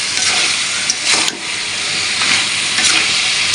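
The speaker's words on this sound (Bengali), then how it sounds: "এইবার ভালো করে কষাবো।" Chicken curry with turmeric, salt and spices sizzles and fries in a pan while being stirred, a continuous loud hiss with brief scraping bursts of stirring, no voices.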